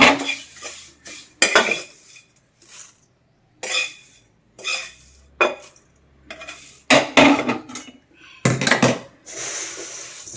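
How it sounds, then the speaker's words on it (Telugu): In a pan of Rayalaseema masala puffed rice with curry leaves, a utensil stirs with loud, close clanks and scrapes in irregular bursts separated by short pauses, with no talking. "ఆ కరివేపాకు ఇవన్నీ చూడండి ఎలా కలుపుతుందో."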